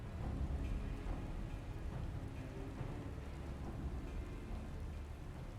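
Steady rain and rumbling thunder from the video game Final Fantasy XIV: Heavensward, a dense, even wash of downpour with low rolling thunder underneath and no voices.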